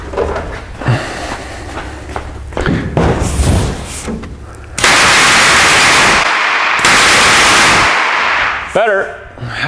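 Propane-fired machine-gun props on a Batmobile replica fire loud, rapid crackling bursts. Uneven popping volleys come first, then a long, continuous roaring blast that breaks off and restarts near the end.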